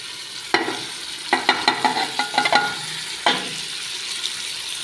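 Garlic and onion frying in a pan as green beans with lamb are cooked, a close sizzle broken by a quick run of sharp spoon scrapes and taps while being stirred.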